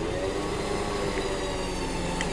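Jeep creeping forward during an offroad recovery with an X-Lock rigged on the winch line, a steady engine drone and low rumble sustained throughout, fairly close, with no talking.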